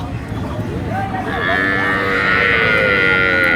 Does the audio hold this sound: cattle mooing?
yes